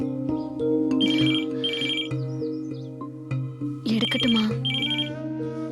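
Telephone ringtone sounding loud and close in a Tamil action film scene, a repeating melodic electronic ring pattern that plays in bursts for several seconds with no talk over it.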